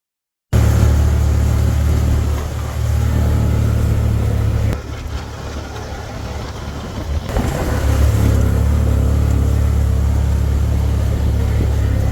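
A hunting vehicle grinds along a hillside road in Idaho with a continuous low engine rumble and road noise heard from inside the cab, dipping softer midway and then building again.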